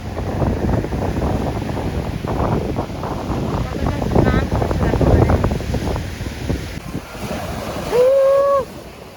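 Surf rolls and crashes steadily on a beach at Bakkhali under strong wind buffeting the microphone, with fairly big waves and a short tonal call near the end.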